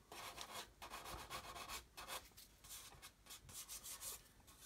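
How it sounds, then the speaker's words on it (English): Steady back-and-forth sanding strokes rub across the surface of a model build. The rhythmic scratchy passes are close and quiet, repeating roughly every half second with brief gaps, and no one speaks. "what I've done is sanded that and all that pen has disappeared"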